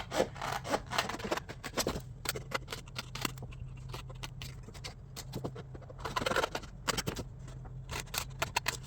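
Scissors snip through card stock edges while a small box envelope for a 6x6 layered card is made, giving quick close crisp cuts and rustling paper, with no talk.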